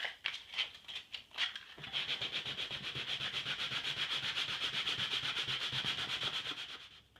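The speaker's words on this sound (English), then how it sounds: "I've done a quick sanding just to take off the little pimples" Wet-dry sandpaper makes a few slow scrapes on filler, then quick, rhythmic back-and-forth sanding strokes, close and steady, with a gritty rasping texture.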